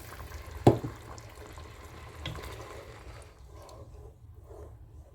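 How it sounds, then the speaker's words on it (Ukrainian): Water is poured from a glass into a cooking pot of Greek-style spinach and rice seasoned with salt and pepper, giving a soft, steady wash of liquid with one brief sharp splash near the start, then a quieter bubbling trickle. "додаємо тепер ще один стакан води"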